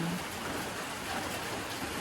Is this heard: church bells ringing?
no